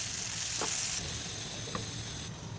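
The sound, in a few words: vegetables cooking in pan for vegetable biryani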